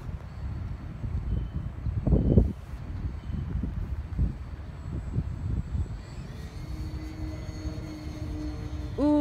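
Radio-controlled A-10 model plane making a flyby outdoors, its engine drone rising and falling over steady wind noise, with a louder pass near the middle before a tonal whine builds toward the end.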